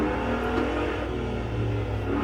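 A Ford Raptor truck in a racing video game drives over gravel, its engine giving a steady, loud droning hum with a constant rumble throughout, no talk over it.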